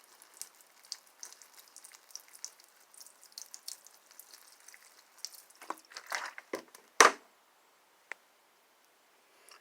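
Water poured from a 2-liter bottle to douse plant leaves, with scattered soft drips and patters that build into a brief splashy burst, followed by a single sharp drop, close and quiet.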